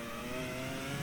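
F1 race car in a 2002 Formula One racing game accelerating at the European round, a steady loud engine whine with layered harmonic tones held for the full second, no voices.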